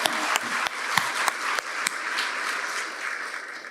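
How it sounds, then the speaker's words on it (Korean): Congregation in a church applauding for Easter worship, a dense wash of many hands clapping steadily for several seconds, fairly close and loud with a few sharper individual claps standing out. "하나님 앞에 영광의 박수"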